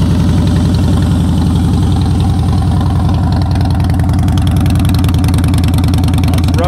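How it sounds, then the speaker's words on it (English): A Harley-Davidson Heritage Softail Classic with Vance and Hines exhaust idles steadily up close, a deep, even throbbing exhaust rumble that continues without a break. "Vance and Hines sound good on it."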